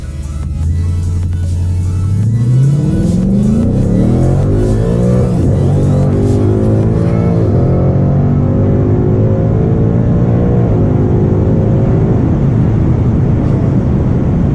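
A 2018 nitrous 5.0 car on slicks and skinnies, its engine revving loud and close through repeated rising pulls that climb and drop as gears change, with a missed first-gear shift in the run.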